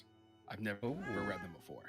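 A cat meows loudly and close by, a drawn-out wavering cry partly overlapping a person speaking in a quiet indoor room.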